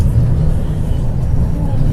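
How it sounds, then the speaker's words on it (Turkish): Low steady rumble of a tram in motion in Moscow, droning engine and rolling noise heard from inside, fairly loud and continuous. "Tramvayın içindeyim arkadaşlar."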